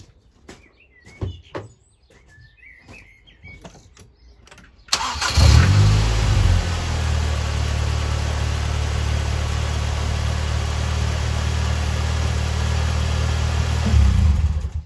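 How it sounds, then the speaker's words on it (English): After a few bird chirps and quiet taps, a car engine cranks and fires up during a battery and alternator check, then settles into a loud, steady idle that runs on to the end. "I will now go and start the car."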